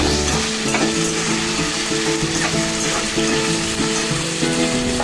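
Chopped ivy gourd frying in oil in a pan, a loud, continuous sizzle with steady stirring noises running throughout, no voices.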